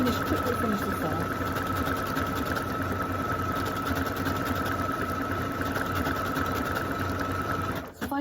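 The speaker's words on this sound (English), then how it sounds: "So if I carry on sewing" A sewing machine stitches an appliqué candle onto a Christmas table runner, its fast, even mechanical whirr running steadily and close up, stopping abruptly at the very end.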